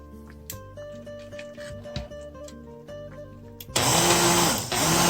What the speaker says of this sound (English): I like to use my hand blender right in the pot